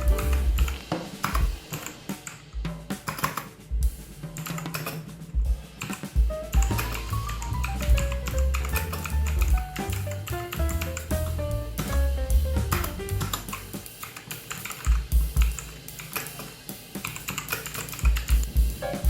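Rapid typing on a pink wireless mechanical keyboard with RGB backlighting, steady clicky keystrokes running throughout under a continuous music bed.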